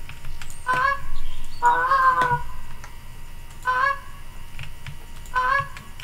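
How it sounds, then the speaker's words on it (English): Magpie geese in the hunting game theHunter: Call of the Wild, Emerald Coast Australia, give repeated nasal honking calls in four separate bursts, moderately close against a quiet outdoor ambience. "Yeah, more magpies."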